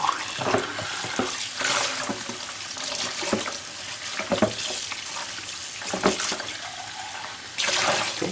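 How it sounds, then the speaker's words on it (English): Tap water runs into a kitchen sink while a whole raw chicken is rinsed inside and out, a steady close splashing with bursts and clunks as the bird is handled under the stream. "So I'm going to take it to the sink. Rinse the inside."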